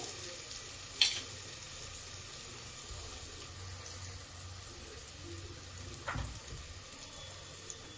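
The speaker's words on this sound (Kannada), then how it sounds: "ಸೊಪ್ಪೆಲ್ಲೂ ಕೂಡ ಚೆನ್ನಾಗಿ ಎಣ್ಣೆಲಿ ಫ್ರೈ ಆಗಿರ್ಬೇಕು" Fenugreek greens frying in oil in a pan, a steady low hiss and sizzle running throughout, with a couple of brief clinks of a utensil against the pan.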